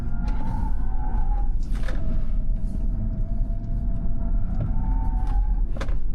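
A Rivian R2 car is pushed hard into a corner: a steady, loud rumble of road and drivetrain noise throughout, with a thin tone rising and falling and a few brief thumps, no speech.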